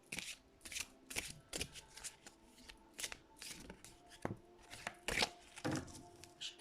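A deck of cards is shuffled by hand, giving a series of quick riffling and snapping bursts at an uneven rhythm, close and soft with no talk over them.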